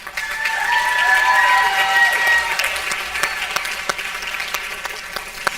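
Audience applause at the 67th Annual Friendship Festival pageant after the little misses winners are announced, a dense steady clapping that swells, holds, then thins with scattered claps and faint voices under it.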